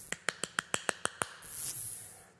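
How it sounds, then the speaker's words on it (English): A single player claps palms, wrists and forearms together as a drumming hand exercise, giving eight sharp, evenly spaced claps in quick succession, followed by a brief airy hiss. "Place your palms, wrists, and forearms together and simply clap 8 times."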